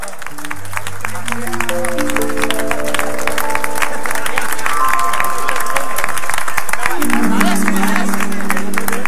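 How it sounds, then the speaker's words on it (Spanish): Audience applause and cheering follow a trova folk-music performance at an olive oil fair, a loud, dense crowd roar with clapping that swells and holds steady, while sustained musical tones ring underneath. "Y el aplauso de la trova."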